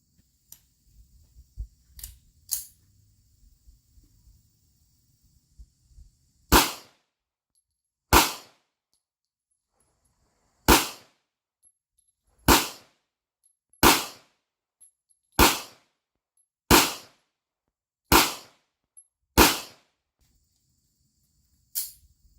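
Short barrel 1911 pistol firing weak, underpowered ammunition: about ten sharp, crisp reports in a slow, fairly even string, preceded by soft handling clicks, with near silence between shots.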